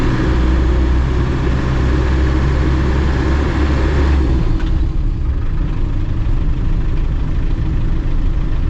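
A classic Land Rover Defender engine idles loudly and steadily from start to finish with a deep, constant rumble and no talk over it.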